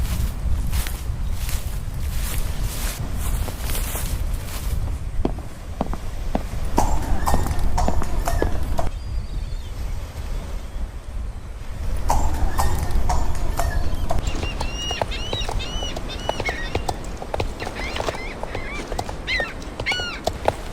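Horse hooves walk in the video game Star Stable Online, a steady clip-clop running throughout over a dense ambient background with occasional honking bird-like calls.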